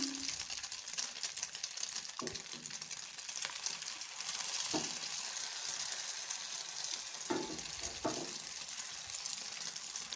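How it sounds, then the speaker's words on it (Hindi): Beaten egg sizzles and fries in hot oil in a pan over a low flame, a steady close hiss with a few soft clicks of utensil against the pan. "अब फेंटे हुए अंडे को हम तेल में डालेंगे और फ्लेम जो है वो लो कर देंगे।"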